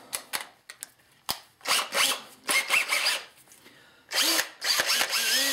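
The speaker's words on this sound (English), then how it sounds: "Then you put it on your drill." An electric drill spinning a polishing brush for a shotgun barrel whirs in repeated short bursts, starting and stopping, with a few longer runs and small clicks between them.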